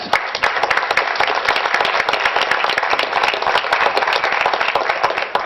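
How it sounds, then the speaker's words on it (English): Steady applause from a school assembly crowd, dense clapping that holds loud and unbroken from start to finish with no talk over it. "they deserve a round of applause"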